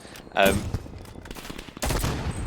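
Assault rifle fire in the video game Call of Duty Cold War, short bursts of close gunshots with a second burst moments later, under quiet voice commentary.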